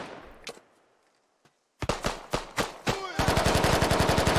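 Gunfire in the military shooter Squad: scattered single shots, then a quiet gap, then a run of heavy individual shots that breaks into a rapid sustained machine-gun burst, loud and close.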